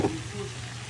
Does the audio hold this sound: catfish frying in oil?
yes